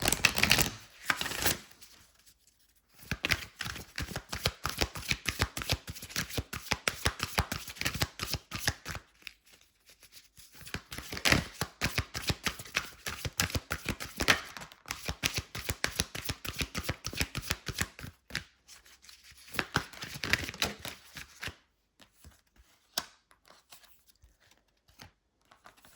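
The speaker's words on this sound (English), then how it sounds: "what is happening to my shuffle skills today?" Tarot cards being shuffled in rapid riffling bursts, a crisp fluttering patter that stops and restarts several times, close-up with brief quiet gaps.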